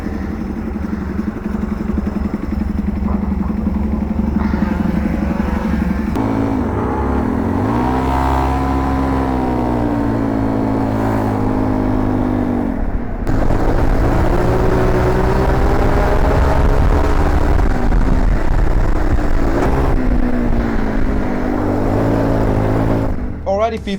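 A 41-horsepower shifter go-kart engine races around a track, close and loud. It buzzes high and revs through repeated shifts, rising and falling, and briefly drops off near the midpoint.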